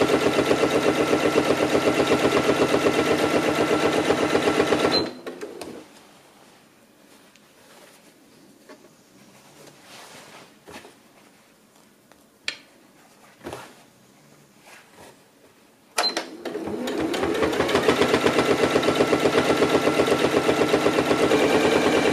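A sewing machine stitches a hem on crepe fabric, giving a loud, steady rapid mechanical rattle that stops for a quiet pause with a few clicks and then starts up again.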